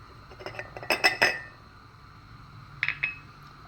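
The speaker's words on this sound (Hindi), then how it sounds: "इसके लिए सबसे पहले मग में हम डालेंगे मैदा" A spoon clinks against a mug while dry ingredients such as flour and cocoa powder are added, a few quick metallic taps in two small clusters, close and fairly quiet.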